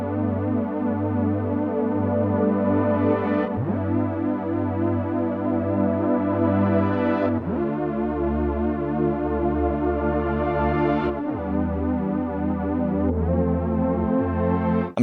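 Two layered Arturia synthesizer patches, one from a Prophet, play sustained rich chords that change every few seconds, a dense, warm pad with wavering texture, loud and alone.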